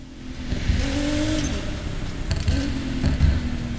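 Racing-game car engines from Need for Speed Payback, a steady revving roar with gear-change shifts and rising whine, moderately loud and continuous with no talk over it.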